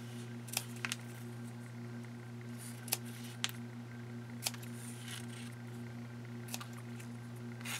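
Scissors snipping apart printed label strips, a scatter of short, crisp clicks at irregular intervals over a steady electrical hum.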